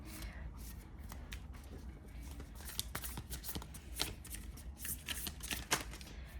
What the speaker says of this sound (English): I want to pull up another card.